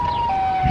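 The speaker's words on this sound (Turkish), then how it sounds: "siren sesleri geliyor." Distant siren, a steady thin wailing tone held for under a second, faint over background rumble.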